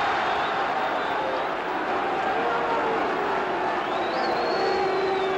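A large rugby stadium crowd at a 1972 Wales versus New Zealand All Blacks test match roars in a dense, sustained wash of noise with scattered whistles, loud and unbroken throughout.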